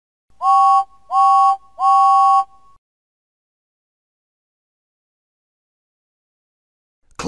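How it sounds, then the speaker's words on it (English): Three loud whistle toots from James the engine, a cartoon steam locomotive in a Thomas and Friends video game, evenly spaced in a quick row, followed by silence. "And he tooted three times on his whistle"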